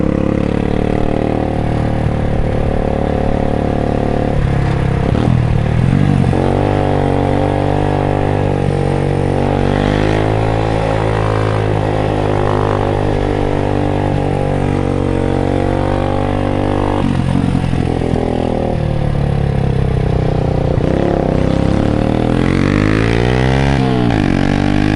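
A motorcycle fitted with a new exhaust rides through traffic, its engine note steady and loud throughout, rising and falling with small throttle changes and a few revs near the end.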